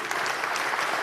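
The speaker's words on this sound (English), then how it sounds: "Round of applause for our panelists, please." An audience at a development forum panel session applauds for the panelists in a brief, steady burst of dense clapping.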